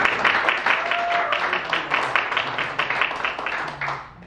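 Steady audience applause at a sports-festival torch relay send-off ceremony, a dense, continuous patter of many hands clapping with a faint background voice, fading slightly at the end.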